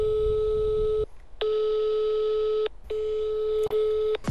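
A telephone busy signal from a call that goes unanswered: three clean, steady tone bursts separated by short silent gaps, loud and close, with no voices.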